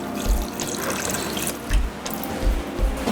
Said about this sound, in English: I'll go ahead to cover this in some water